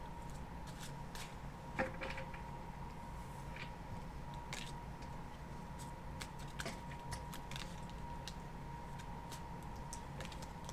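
A deck of tarot cards is shuffled steadily for several seconds, giving soft repeated riffling and flicking over a constant low room hum, with one sharper snap early on.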